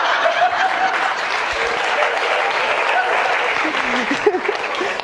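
Studio audience at a French stand-up comedy show applauding steadily and loudly throughout, a dense wash of clapping with scattered chuckles and a voice briefly audible underneath.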